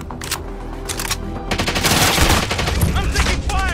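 Rapid automatic gunfire rattles in a video game match, dense bursts of shots building louder through the middle with a few ricochet-like pings near the end.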